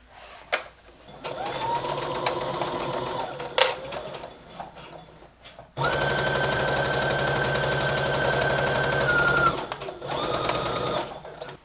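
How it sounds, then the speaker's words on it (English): A sewing machine stitches a seam around a summer top in bursts: a whirring run, a pause, then a longer, louder steady stretch and a final short run, close and without talk. "we're gonna sew all the way around with a 1/2 inch seam allowance"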